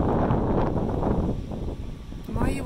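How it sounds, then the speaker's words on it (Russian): Strong wind blows outdoors at a cliff, a loud, continuous rumbling buffet against the microphone that barely eases over a few seconds. "еще ветер сильный"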